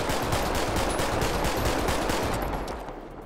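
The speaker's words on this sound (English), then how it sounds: "this is the actual fire rate of the pistol" Rapid, continuous fire from a combat pistol in GTA 5 with a modified weapon sound pack and increased handgun fire rate, shots coming in a dense, even stream that fades slightly at the end, loud and alone without talk.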